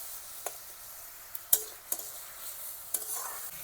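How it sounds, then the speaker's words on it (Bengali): Spice paste with turmeric, a little water and green chillies is stirred in a pan for a Bengali katla fish curry, giving a faint simmering sizzle broken by a few sharp scraping clicks of the spoon. "জল দিয়ে মশলাটা ভালো করে কষিয়ে নেব।"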